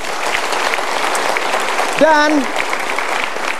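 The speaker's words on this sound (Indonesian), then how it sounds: "Kita berikan tepuk tangan." An audience at a motivational seminar applauds steadily, a dense wash of clapping running throughout, with a brief sung or spoken tone rising over it midway.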